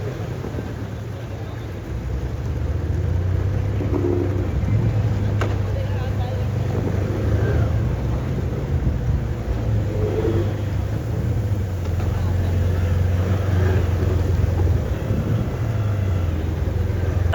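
A boat engine runs at sea near Malvan on the Konkan coast, a steady close drone that rises slightly after a few seconds, with wind buffeting the microphone throughout.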